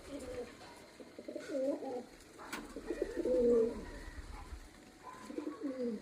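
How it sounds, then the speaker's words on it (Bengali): Pigeons on a rooftop coo softly in repeated low, throaty phrases, several overlapping at moderate distance, with faint chirps and light background ambience. "পায়রার ডাকটা কি সুন্দর না?"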